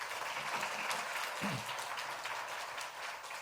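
Church congregation at a Sunday service applauds, soft, distant clapping filling the room continuously with a brief faint voice in the middle.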